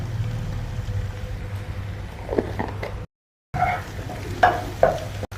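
Onion, green chilli and ginger-garlic paste frying in oil and butter, a low steady sizzle with occasional spoon scrapes and clinks, cut by a brief gap of silence.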